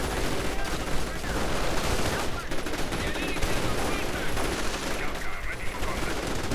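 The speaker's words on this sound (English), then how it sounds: "Rifleman with BARs getting pushed off" Riflemen with BAR automatic rifles fire in a World War II strategy video game, a dense, continuous crackle of bursts and overlapping shots that barely lets up.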